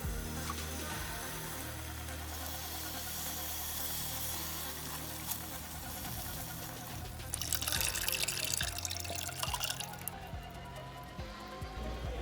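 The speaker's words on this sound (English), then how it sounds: "We are ready to put in tomato broth." Tomato broth poured into a pot for Croatian stuffed peppers, a continuous liquid pouring and splashing sound close by, swelling to a louder gush partway through before settling, with no talk.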